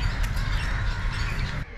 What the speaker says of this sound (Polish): Najwięcej w Suezie znajdziemy kruków i czapli złotawy.